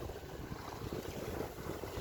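A sailboat moves through open water under wind, giving a steady broadband rush of wind buffeting and sloshing waves, fairly quiet and continuous with no voices.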